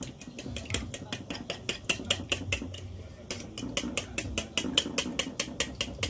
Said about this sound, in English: Gonna beat up the egg in this bowl.